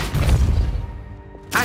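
The Depulso spell in Hogwarts Legacy lands as a deep, booming thump with a whooshing burst that fades away, followed by a brief sharp sound at the end.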